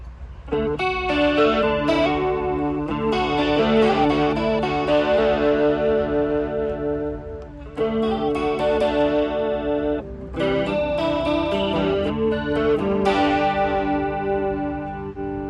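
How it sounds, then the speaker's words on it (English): A guitar played through a chorus effect from an effects unit, shimmering and warbling chords ringing out in several phrases with short pauses between, no voices. "We're going to show you the chorus now."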